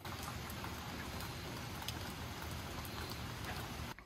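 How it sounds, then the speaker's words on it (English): Steady rain falls in a dense, even patter of drops on surfaces, moderately close and continuous with no one talking. "It's raining."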